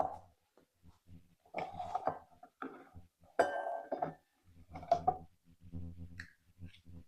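A spoon scoops tablespoons of an ingredient and taps into a bowl for a sweet treat, giving light clinks and clicks scattered among close, steady talking.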